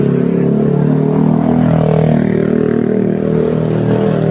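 A motorcycle engine runs close and loud outside a custom paint shop, with a steady droning rumble, no breaks, and no voices over it.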